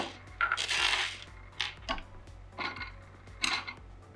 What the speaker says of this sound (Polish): Ten śrubokręt tak wibruje.